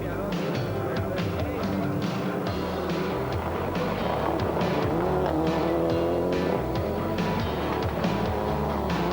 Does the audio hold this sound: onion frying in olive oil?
no